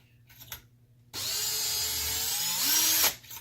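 A power drill spinning a cartridge case trimmer while reloading ammunition whirs up abruptly and spins steadily for about two seconds, its pitch rising briefly near the end before stopping; quiet handling noises before.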